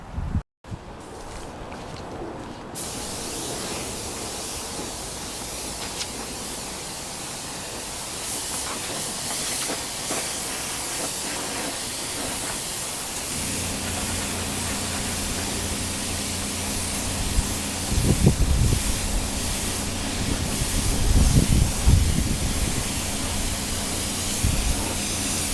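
Aerosol spray paint hisses in long continuous bursts while a wheel from a Yamaha FZ600 under restoration gets its coat outdoors, with a few soft handling knocks in the later part.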